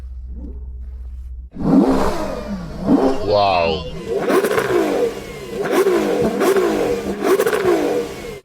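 A Lamborghini Urus SE V12 engine is revved hard several times in quick succession, loud and close, each blip rising and falling, after a quiet idle, with a brief exclamation from a person.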